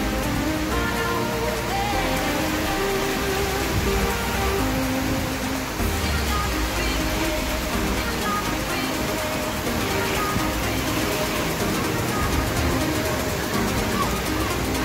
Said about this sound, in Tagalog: Na-amaze sa ulan ngayon.